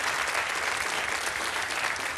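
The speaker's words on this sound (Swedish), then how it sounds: "Ja, det är värt en applåd faktiskt." A studio audience on a Swedish TV lottery show gives a steady burst of applause, dense clapping that carries evenly to the end with no talk over it.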